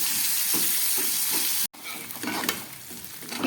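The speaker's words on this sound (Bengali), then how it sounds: "পেঁয়াজটাকে খুব ভালো করে এবারে ভেজে নেব।" Onions frying in a pan for a chicken dish, with a strong, continuous hiss and crackle heard up close and a brief cut partway through, then the sizzle resumes with light stirring.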